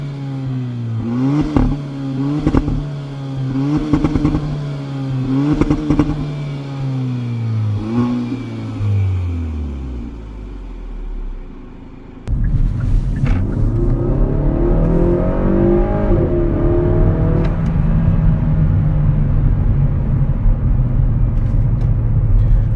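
A 2020 Kia Forte GT accelerates through rising and falling engine revs with gear shifts, its exhaust giving sharp pops and crackles between pulls, loud and close, then a steady heavier drone after a sudden change in sound.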